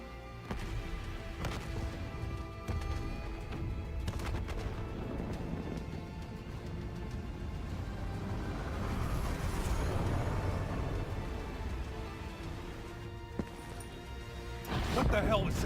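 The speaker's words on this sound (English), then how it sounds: "Hendricks, we have multiple explosions across the facility." Explosions and gunfire in the Call of Duty Black Ops 3 video game, a dense, sustained roar of blasts and impacts with scattered sharp cracks, swelling near the end.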